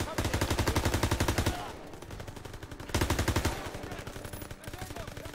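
Rapid automatic gunfire in the video game Call of Duty WW2, loud, close bursts of evenly spaced shots, pausing briefly before a second sustained burst and lighter scattered fire.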